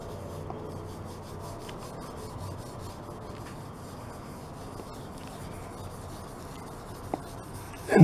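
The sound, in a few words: rubbing wood finish restorer over scratches with a rag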